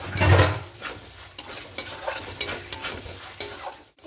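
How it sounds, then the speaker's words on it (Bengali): Fried potatoes and spices being sautéed for a vegetarian potato paneer dish, with a loud sizzle and a spoon scraping and stirring the pan in repeated strokes, close by. "আলুগুলোর সঙ্গে দিয়ে একটু ভালো করে কষিয়ে নেব।"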